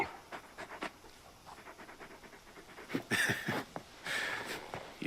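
Torgal, a large wolf-like dog in Final Fantasy XVI, pants in quick, rhythmic breaths, with brief snorts and louder bursts of huffing later on.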